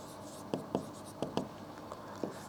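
Pen scratching out entries in an accounting ledger, a handful of short soft strokes spaced irregularly, quiet and close with light room noise.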